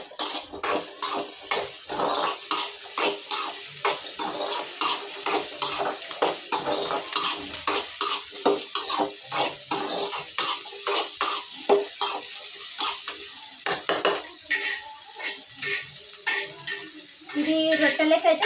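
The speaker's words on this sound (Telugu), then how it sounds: "ఇదైతే కాకరకాయ ఉల్లిగడ్డ కలిపేస్తా" Bitter gourd and onion stir-fried in oil, with a steady sizzle broken by frequent scraping and clinking strokes of a spoon against the pan, close and fairly loud, no voices.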